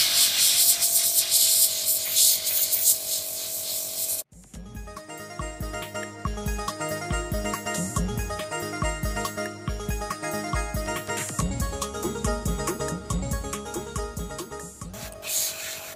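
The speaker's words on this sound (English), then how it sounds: "So that's that sprayed with the gunmetal and flat black mix." An airbrush sprays a gunmetal and flat black paint mix onto DeAgostini Millennium Falcon cockpit model parts: a steady close hiss for about four seconds, then music takes over for the rest.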